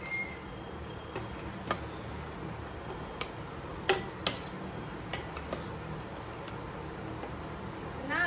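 Hot, freshly fried khoya gulab jamun dropped into sugar syrup and stirred in a pan: faint clinks and taps of a utensil against cookware, scattered and irregular over quiet background.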